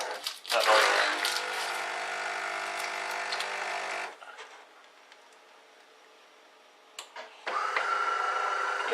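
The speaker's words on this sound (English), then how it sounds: "that noise is my coffee machine going to sleep." A home coffee machine powers down into sleep mode in a kitchen, giving a steady mechanical whir and hum that cuts out, leaves a quiet stretch with a click, then starts up again.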